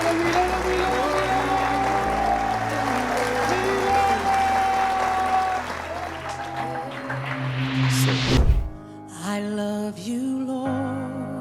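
Church audience at a book launch applauding and cheering, a steady dense wash of clapping that swells, then breaks off into music and voices.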